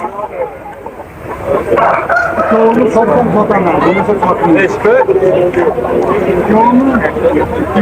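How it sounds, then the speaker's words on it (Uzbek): Chickens and roosters at the Kokand poultry market, with clucking and crowing mixed into a continuous busy market din under steady talk from people nearby. "Bugun Qo'qon tovuq bozoridamiz"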